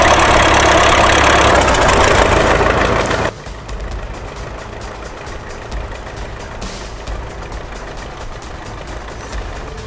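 Tractor engine running hard while stuck in mud, a loud, dense roar that cuts off abruptly into a quieter, steady idling rumble with faint clatter.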